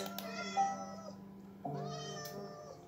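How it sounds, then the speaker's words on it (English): Cartoonish cats meowing in the video game The Village, two drawn-out meows in succession, clear and close with no talk over them. "Alright, so the first animal. Cute little kitties."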